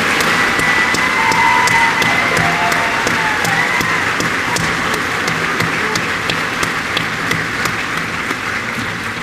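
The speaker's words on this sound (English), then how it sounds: "Ladies and gentlemen, a round of applause for their dedicated service to Corps and country." Sustained applause from a large audience at a U.S. Marine Corps recruit graduation ceremony for Kilo Company, steady and dense throughout, with a low hum running underneath and no voices on top.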